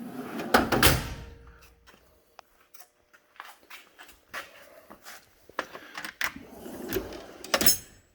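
Drawers on an 84-inch Epiq toolbox sliding open and shut, with sharp clunks and rattling metal tools inside, several bursts of rolling and knocking spread across the stretch, close by.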